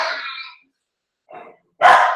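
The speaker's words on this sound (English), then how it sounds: "Sorry, that's loud. That's my dogs." Several pet dogs barking indoors in loud bursts, with a couple of sharp barks, a pause, then a sustained burst close by.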